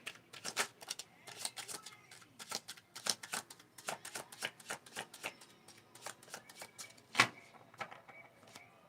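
Tarot cards are shuffled in a quick run of crisp riffling snaps and soft taps, close and fairly quiet, without speech.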